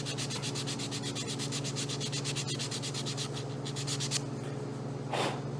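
Hand sanding a wooden school project with 100 grit sandpaper: a steady run of close, rhythmic back-and-forth scrapes that fade out near the end, leaving a soft brief rustle alone.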